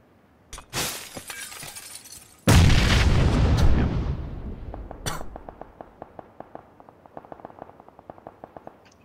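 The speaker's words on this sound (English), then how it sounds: "I'm gonna throw a nade." Grenade blasts in a video game: two sharp, loud explosions, the second larger and rumbling as it decays, followed by scattered debris clatter and clicks.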